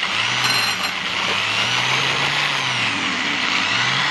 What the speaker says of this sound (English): just drill the hole through the body so that the ground can be made for the pickup